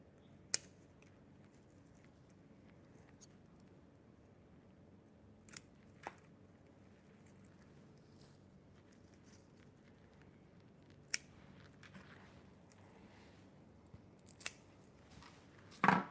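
Sharp pruning-shear snips on a black pine bonsai, isolated crisp clicks scattered irregularly across a quiet room, about eight cuts in all, each brief and close, with a small cluster near the end.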